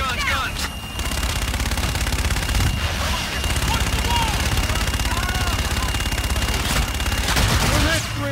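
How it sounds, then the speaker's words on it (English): An aircraft gun run in Call of Duty Infinite Warfare: a loud, continuous roar of rapid cannon fire with a steady engine hum beneath, sustained throughout, with radio chatter over it. "Inbound for gun run. Guns, guns, guns!"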